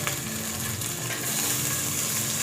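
Tomatoes with coriander and mint leaves being sautéed with browned onions for chicken biryani, giving a short, continuous close sizzle with faint stirring.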